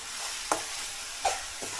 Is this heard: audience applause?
no